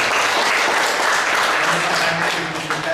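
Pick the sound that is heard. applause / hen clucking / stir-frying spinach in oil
applause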